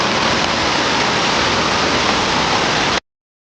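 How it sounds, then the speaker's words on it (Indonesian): Clear, cold river water running over natural rocks at a hidden spot in Banyuwangi: a steady, dense rush of flowing water, close and even throughout, with no voices. "Aliran air yang tenang berpadu dengan batuan alami menghasilkan harmoni suara alam yang menenangkan"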